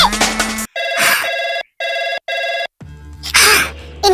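A telephone bell rings in short repeated bursts, loud and close, with brief gaps between rings and some other sounds at the start and end.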